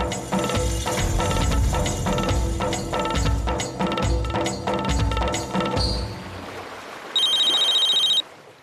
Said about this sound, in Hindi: सच्चू को फोन करती हूँ।